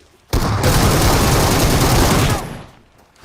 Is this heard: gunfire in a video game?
yes